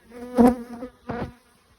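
Bees buzz close by at Ukrainian beehives, two short loud droning passes a fraction of a second apart as insects fly near, with no talking.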